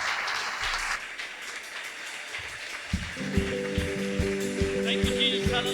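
A church congregation at a New Year's worship service claps in a dense, steady patter, with a voice over it and music starting partway through.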